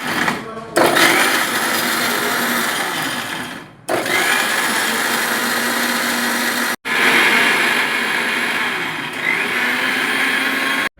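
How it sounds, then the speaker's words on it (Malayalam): Mixer grinder blending a ragi and banana smoothie, a loud, close, high-pitched motor whine running in three long bursts with brief stops between them. "ഇതെല്ലാം കൂടിയിട്ട് മിക്സിയിലൊന്ന് അരച്ചെടുക്കണം ചെയ്യുന്നത്"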